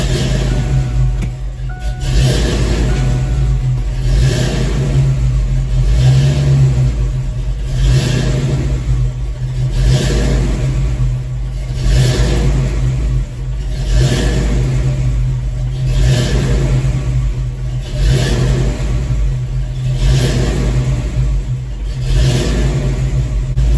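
A hot Ford Foxbody V8 with a hard-crank and surging-idle fault runs loud and close, its idle rising and falling in a regular rhythmic surge every couple of seconds for the whole stretch.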